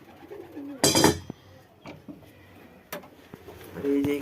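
Domestic pigeons coo softly in a home loft, their low calls broken by a few sharp clattering knocks and scuffles nearby, with faint voices in the background.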